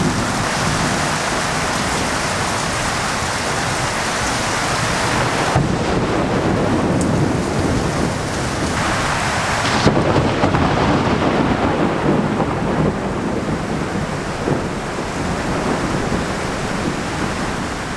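Steady heavy rain pours down throughout, with deep rumbles of thunder rolling beneath the constant hiss.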